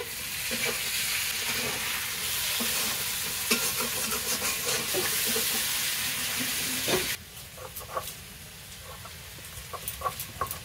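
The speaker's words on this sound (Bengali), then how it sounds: "আলুটাও প্রায় ভাজা হয়ে গেছে।" Potatoes fry in a pan with a loud, continuous sizzle that abruptly drops to a quieter crackle, with occasional scraping and clinks of stirring.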